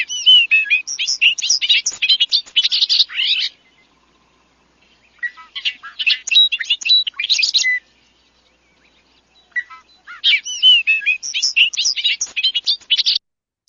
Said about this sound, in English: So wonderful Bobolink. It is not something that you're gonna forget the first time you actually hear it in person.